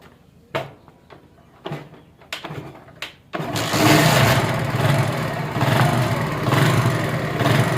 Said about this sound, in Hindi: ये देख सकते हैं मोटरसाइकिल स्टार्ट हो गया